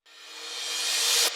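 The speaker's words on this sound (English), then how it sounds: "A riser, white noise thing." A white noise riser sound effect made for a music arrangement, a smooth hiss that swells steadily in loudness and brightness for over a second before cutting off abruptly.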